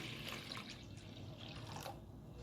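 Tap water runs faintly into a kitchen bowl holding half a cup of flour, a soft continuous splashing trickle with light drips, heard alone and quiet.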